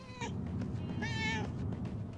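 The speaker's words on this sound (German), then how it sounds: "Schon wieder eine Katze, die wir wahrscheinlich irgendwann gebrauchen könnten." A cat meows in the PS4 video game Murdered: Soul Suspect, giving a short meow followed by a longer, clear drawn-out one over a steady low game background hum.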